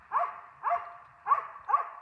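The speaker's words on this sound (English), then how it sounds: "if those puppies work half as good as that Bucha that's barking right now, I'd be happy" A West Siberian Laika hunting dog barks four times in an even, fairly quick rhythm, each bark short, sharp and clear, sounding moderately close, with no talking.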